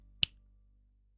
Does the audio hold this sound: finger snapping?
yes